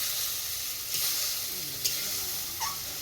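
A paste of spinach, coriander, green chilli, garlic and cashew sizzles in a pan, a steady close hiss with a few soft stirring scrapes and small pops along the way.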